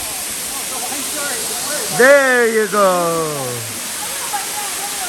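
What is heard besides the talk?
Cathedral Falls waterfall, West Virginia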